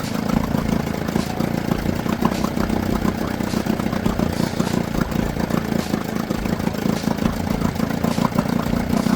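Small outboard motor on a restored childhood boat idling with the idle raised, a steady continuous putter with dense low rumble and fine rhythmic texture, close and fairly loud throughout, no talking.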